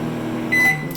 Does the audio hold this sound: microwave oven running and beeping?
yes